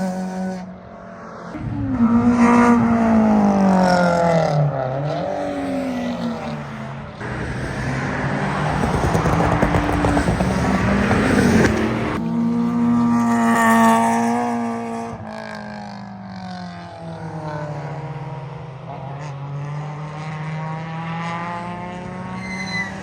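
A loud engine-swapped Toyota Starlet with a loud exhaust leaving the pit lane at Knockhill circuit, revving up through rising gear sweeps, close and roaring for most of the clip.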